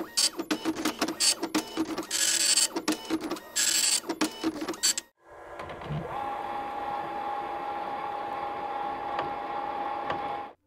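Printer noise in the video game FNAF Pizzeria Simulator: a loud, choppy run of rapid mechanical clatter and whirring bursts for about five seconds, then a brief gap followed by a quieter, steady hum with a faint tone.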